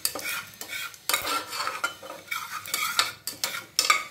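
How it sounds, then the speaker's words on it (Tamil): Whole spices, kalpasi, cinnamon, fennel and cardamom, frying in a pan for a vegetable kurma, heard as clattering stirs and scrapes of a spoon over a soft sizzle, close and uneven. "கல்பாசி, பட்டை, சோம்பு, ஏலக்காய், நல்லா வந்து கொஞ்சம் ஃப்ரை பண்ணி விட்டுக்கலாம்"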